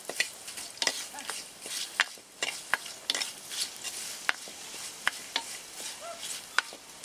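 Citron (nartha) leaves sautéed in a pan, a low sizzle broken by frequent sharp clacks and scrapes of a ladle against the metal, irregular and close by, with no talking.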